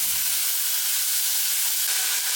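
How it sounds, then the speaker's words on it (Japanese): Thin strips of beef sizzle steadily as they stir-fry in melted butter in a pot, a continuous bright frying hiss close by with a few soft stirring knocks underneath and no talk. "まずはこの牛肉だけで炒めていきます"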